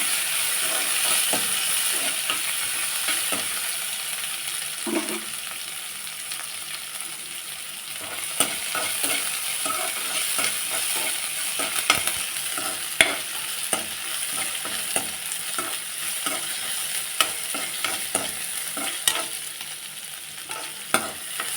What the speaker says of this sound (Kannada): ಎಣ್ಣೆಯಲ್ಲಿ ಈ ರೀತಿ ಫ್ರೈ ಮಾಡಿಕೊಂಡು